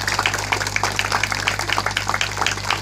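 Audience applause at a district committee welcoming ceremony in Latehar, Jharkhand, a dense steady clatter of many hands clapping throughout, with a low hum underneath.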